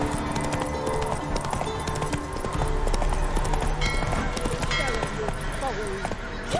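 Roach the horse trots on in The Witcher 3, its hoofbeats clip-clopping under game music and spoken dialogue that runs through most of the moment.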